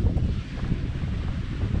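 Wind buffets the microphone aboard a sailing boat at sea off Noosa at sunset, a continuous low roaring rush with faint water wash beneath and no voices.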